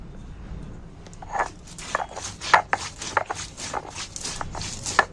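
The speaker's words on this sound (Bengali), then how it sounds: "ধনে, মৌরি, জিরে, এই 3টে মশলাকে আমি প্রথমে বেটে নিচ্ছি।" Coriander, fennel and cumin are crushed on a flat grinding stone, producing irregular scraping and knocking strokes, close and moderately loud, in an uneven rhythm.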